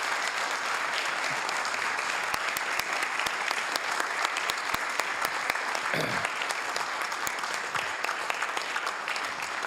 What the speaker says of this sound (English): let's give this a big round of applause